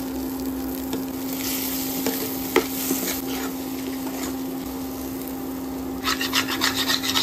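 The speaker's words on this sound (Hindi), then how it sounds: "यहाँ पे अंडा को एकदम अच्छे से मतलब भुनाई करना पड़ेगा" A utensil scrapes and rubs in a pan while eggs are stir-fried for aloo bhurji, with steady close scratching strokes, a few sharp knocks, and a faster burst of scraping near the end, with no talk.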